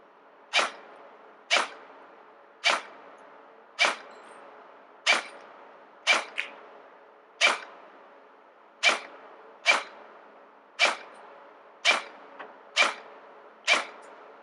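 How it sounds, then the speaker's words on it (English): Airsoft BBs from a stock AEG striking two stacked oil cans about 55 metres away, a steady series of about thirteen sharp, distant metallic dings roughly once a second. "you can hear a couple of dings in the background then"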